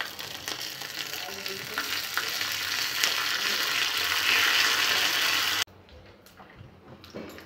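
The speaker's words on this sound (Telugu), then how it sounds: "తాలింపు కొద్దిగా ఫ్రై అయిన తర్వాత ఇందులో కొత్తిమీర వేసుకోవాలి." Garlic, dry red chillies, curry leaves and coriander sizzle loudly in hot oil for a tempering, a steady close crackle with some stirring before it cuts to quieter scraping near the end.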